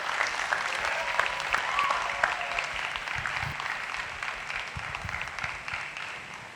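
An audience at a college theatre and dance awards ceremony fills the room with steady, dense applause that slowly tapers, with faint voices underneath.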